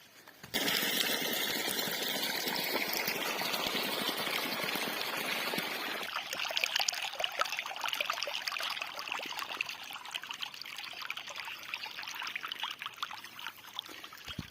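Irrigation water trickles through a farm field in a steady stream, loud at first and then thinner and patchier after a few seconds, continuous and close, with no talk.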